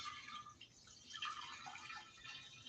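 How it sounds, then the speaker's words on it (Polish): Half a litre of water pours through the lid opening of a Thermomix, a soft, steady trickling and splashing stream lasting a few seconds, fairly quiet and close. "wleję tędy przez otwór pół litra wody"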